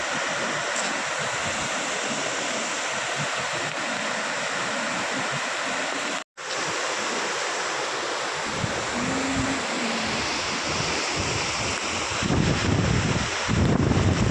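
Overflow water from a dam at Patgaon roars continuously as it pours down as a small waterfall nearby, with wind buffeting the microphone and a momentary dropout partway through.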